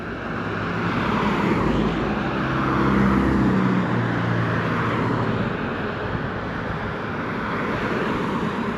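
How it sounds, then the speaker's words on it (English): Road traffic passes near a dam, a loud broadband vehicle rush swelling and then easing, with steady wind noise behind it and no talking. "Some traffic coming on."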